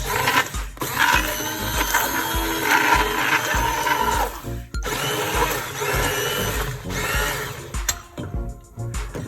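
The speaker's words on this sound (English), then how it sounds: "before you use your stick blender" A stick blender whirs loudly and steadily while blending homemade Thai sweet chili sauce, with a brief stop midway before winding down at the end.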